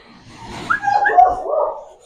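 An American Pit Bull Terrier whimpers and yips in a short run of thin, rising whines, fairly close and moderately loud, with a little soft background noise.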